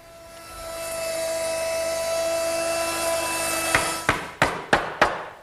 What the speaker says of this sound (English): It's the same cut as a 1/2-inch roundover bit set up in my router.